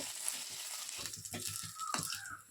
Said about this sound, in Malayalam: ഇതിലേക്ക് രണ്ട് ഉണക്കമുളക് രണ്ടായിട്ട് നുറുക്കിയതും കുറച്ച് കറിവേപ്പിലയും കൂടി ഇട്ട് മൂപ്പിക്കുക